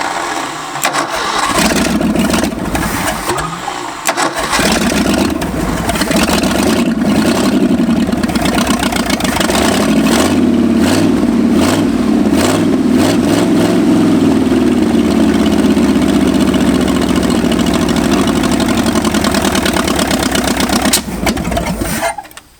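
An abandoned Ford F250 that sat for 26 years cranks and fires, then runs rough and loud with repeated revving surges, its engine close and continuous until a sudden cutoff at the end.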